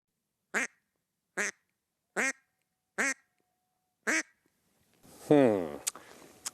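A duck call is blown in five short, evenly spaced quacks, then a longer, drawn-out descending quack sequence, close and clear in a quiet outdoor setting, imitating a lonesome duck.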